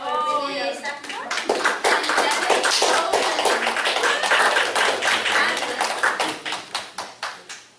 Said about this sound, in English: round of applause for Oh, Renee